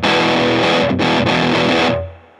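Guitar driven through a Big Muff Wicker fuzz pedal with its tone switch engaged gives a thick, saturated, distortion-like roar, played loud and close in two strummed bursts before ringing out and fading.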